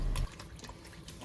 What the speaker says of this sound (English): let's rinse out the pads, removing as much of the cleaner and any remaining polish or compound residue as possible